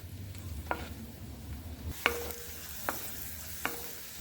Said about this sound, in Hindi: अब हम किशमिश को भी फ्राई करेंगे। किशमिश भी लो से मीडियम आंच पे फ्राई करेंगे।